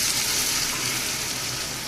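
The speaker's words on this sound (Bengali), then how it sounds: "ঝোলটা দিয়ে দিলাম।" Broth pours into a hot cooking pan for a poya fish curry with bitter gourd, potato and pointed gourd, giving a loud, steady hissing sizzle that runs unbroken without any talk.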